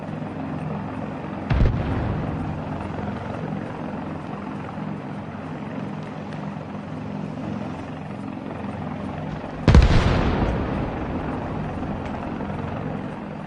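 A helicopter in the military video game Arma Reforger runs as a steady, close rotor-and-engine drone throughout, broken by two sharp, loud bursts a few seconds apart.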